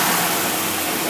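A car engine fitted with an Edelbrock 600 cfm carburetor and a high-speed cam runs loud and close in a steady, sustained roar with no speech.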